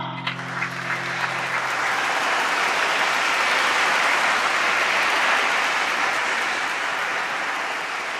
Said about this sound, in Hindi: ग्रुप को तालियों से स्वागत कीजिए इनका